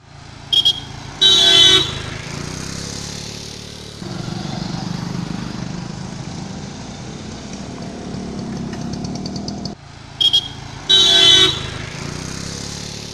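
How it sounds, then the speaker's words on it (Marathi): Busy road traffic with engines passing and pausing at a road junction in Valpoi, Goa, punctuated by short horn toots near the start and again near the end, loud and close. "ह्या जंक्शनार पळयात गाडयो कश्यो यो वच करतात त्यो"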